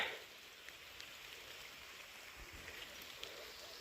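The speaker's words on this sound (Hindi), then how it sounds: "कल रात से लगातार बारिश होती जा रही है" Steady rain falls continuously on a hillside farm after a night of downpour, an even soft hiss with scattered drip taps, faint and unbroken throughout.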